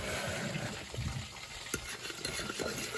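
A spoon stirs thick red sweet and sour chicken sauce in a pan, producing a continuous wet, gloopy churning close by with faint sizzling and occasional scrapes, with no talk.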